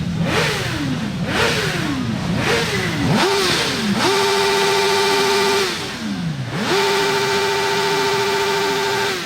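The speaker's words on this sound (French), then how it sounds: "Moi je suis venu en moto, c'est pour faire du bruit en fait." A motorcycle at a street protest march against the high cost of living, its engine revved hard again and again in rising and falling surges before holding at a steady high whine, loud and close.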